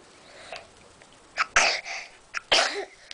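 A toddler boy crawling about lets out a sneeze, with a couple of quieter sniffly breaths before it and a second burst a second later; the sounds are close and brief, with no talk.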